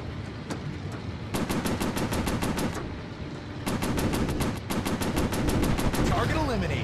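Rapid bursts of machine gun fire from a WWII warplane in a VR flight combat game, loud and steady with brief pauses between long rattling volleys.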